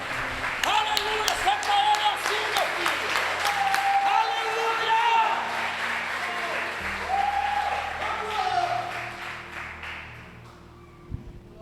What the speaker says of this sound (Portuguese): dê uma forte salva de palmas para Ele